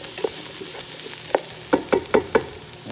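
Garlic, zucchini and potato for minestrone soup cook in a pot, a soft steady sizzle broken by several quick spoon scrapes and clinks clustered toward the end, close and without voices.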